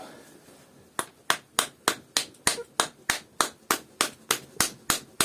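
A steady series of sharp metallic hammer blows knocking copper out of a refrigerator compressor, about fourteen strikes at an even rhythm, loud and close, with faint background noise between them.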